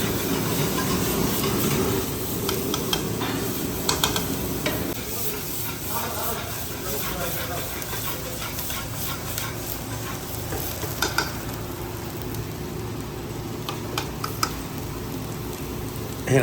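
Onion fries in a little oil in a pan, giving a steady, dense sizzle that runs throughout with occasional light clicks and clatter.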